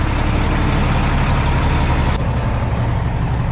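A truck engine idling steadily just after a jump start, a loud, close, continuous low diesel rumble with no pauses.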